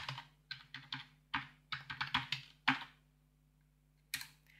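A password is typed on a computer keyboard, a quick run of soft, close key clicks in uneven bursts, then a pause and one final keystroke.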